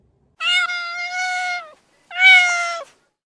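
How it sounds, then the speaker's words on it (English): A cat gives two long, clear meows, the first drawn out and the second shorter after a brief pause, close and distinct against silence. "It's a cat."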